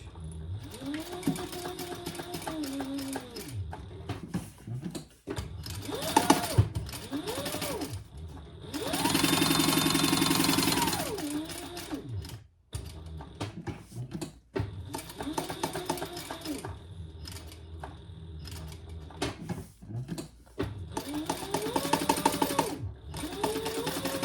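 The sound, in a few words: sewing machine top stitching a wallet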